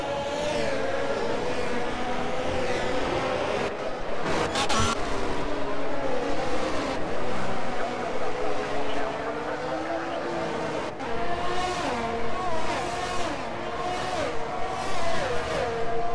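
Race cars in a video game racing league, engines droning and revving steadily throughout with shifting pitch as cars run on track, fairly loud, with occasional brief gaps.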